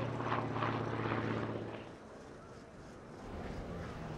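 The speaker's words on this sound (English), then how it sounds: "That particular Bearcat being flown by Howard Perdue is the only existing Bearcat of its type." A Grumman F8F Bearcat propeller aircraft drones steadily overhead, its engine hum rising and fading as it flies past, with a voice faintly underneath.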